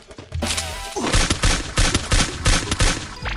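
Video game gunfire fired into the ground comes as loud, close bursts of rapid shots, several clusters in quick succession after a short lead-in.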